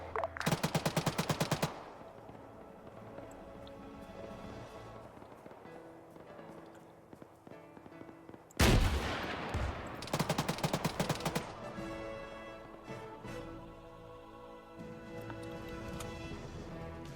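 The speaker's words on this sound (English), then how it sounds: "Dishka's firing back." DShK heavy machine gun firing in Arma 3, loud rapid bursts of heavy automatic fire at the start and again midway, with a sharp boom and softer distant rattles between the volleys.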